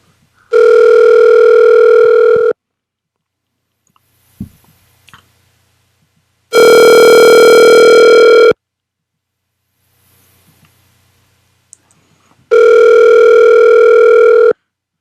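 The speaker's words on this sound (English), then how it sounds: "Y'all hear the ringtone." An outgoing call's ringback tone pulses three times, each loud two-second burst separated by about four seconds of near silence with faint clicks.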